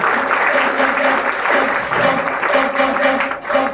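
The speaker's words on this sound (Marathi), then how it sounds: "सिस्टमसाठी एकदा जोरदार टाळ्या झाल्या पाहिजे." An audience at a motivational speech event in Bhosale village, Bhekarai, breaks into loud, sustained applause, dense clapping throughout with no voices on top.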